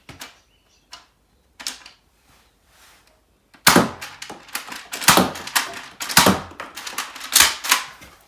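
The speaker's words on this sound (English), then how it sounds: "let's try a couple of shots with the barrel on" A Nerf Nailbiter blaster fitted with a barrel attachment fires outdoors: a few sparse, soft clicks, then a close run of loud, sharp snapping shots in quick irregular succession.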